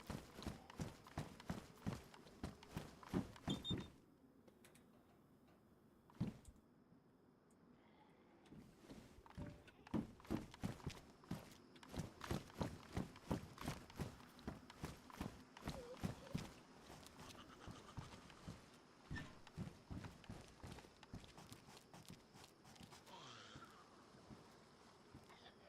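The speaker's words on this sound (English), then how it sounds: "Yes, you can hear the footsteps now." Footsteps in DayZ on Chernarus, a long run of steady, evenly spaced crunching steps with brief pauses, fairly close, over a quiet outdoor background.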